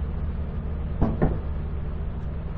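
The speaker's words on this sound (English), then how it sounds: "Open and close door." A heavy sliding door in the Lethal Company video game thuds and rattles twice in quick succession over a loud low rumbling hum, with another knock at the end.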